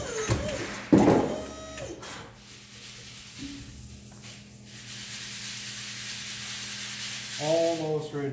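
Paper is rubbed and rolled to form cylinder shell cases for a black powder motor, giving a continuous soft sanding hiss beneath a steady low hum, with a few sharp knocks and clatters.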